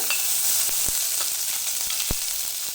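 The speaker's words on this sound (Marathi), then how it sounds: "बारीक चिरलेला कांदा घालून थोडं परतून घ्यायचं आहे" Finely chopped onion sautés in a few spoonfuls of hot oil, giving a continuous bright sizzle with a few soft stirring knocks against the pan.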